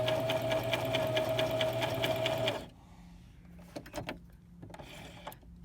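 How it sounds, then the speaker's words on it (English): A sewing machine stitches fabric for a fitted face mask, running in a loud steady whir for a couple of seconds before stopping, followed by quieter clicks and handling of the fabric and threads. "let's see how the machine sews"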